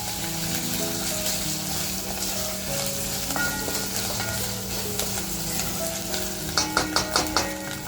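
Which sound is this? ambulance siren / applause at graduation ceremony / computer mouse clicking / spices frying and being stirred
spices frying and being stirred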